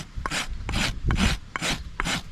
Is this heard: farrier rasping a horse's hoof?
yes